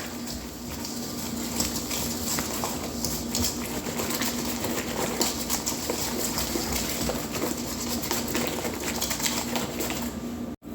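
Cold milk whisked into a no-bake cherry cheesecake mix, making a steady, dense rattling whir that runs unbroken for about ten seconds with no talking.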